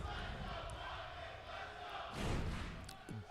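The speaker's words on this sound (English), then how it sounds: "The entire crowd is rumbling." Crowd at an esports global finals roaring and rumbling in a large arena, a dense sustained wash of voices with a louder swell and thumping burst near the end, mixed with amplified voices.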